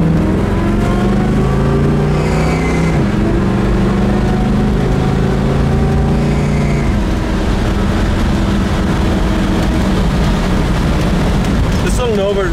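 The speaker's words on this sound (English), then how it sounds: "This little Nova runs and drives fantastic down the road." A 1972 Nova's engine runs steadily and loudly while the car drives down the road, a continuous rumbling drone with shifting tones that fills the whole stretch.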